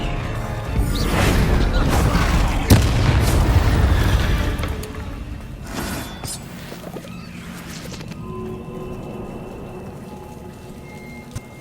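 Confringo explosive spell blasts in Hogwarts Legacy, a heavy rumbling boom with crackling debris in the first half that fades to a quieter low rumble and ambience.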